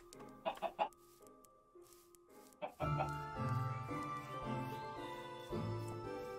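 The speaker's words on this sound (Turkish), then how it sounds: "Ama niye bu kadar tavuk var?" Minecraft chickens cluck in a few short, clipped bursts early on, fairly close. Then a sustained tonal backdrop of music or machinery takes over and continues to the end.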